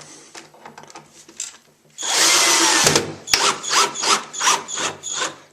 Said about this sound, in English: so now I'm going to screw them together. And this screw gets a washer.